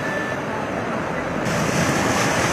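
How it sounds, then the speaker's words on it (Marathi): Floodwater surges strongly across a road at Medical Chowk in Nagpur after heavy rain, a dense, constant roar of rushing water mixed with wind-like noise that grows slightly louder partway through. "मेडिकल चौकातून पाणी असं जोरदार प्रवाहित होताना दिसत आहे"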